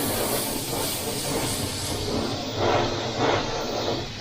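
Light mist of orangey-brown colour sprayed close to a brazed steel weld, a steady close hiss of aerosol or airbrush spray running throughout with slight swells in intensity.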